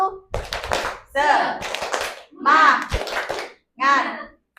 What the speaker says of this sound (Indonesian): tepuk semangat yang ketiga,